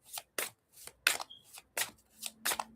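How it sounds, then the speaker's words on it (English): A deck of playing cards shuffled in repeated quick riffles, about seven short crisp bursts spaced through the stretch, close and fairly quiet with gaps of silence between them. "I don't know why I started shuffling again."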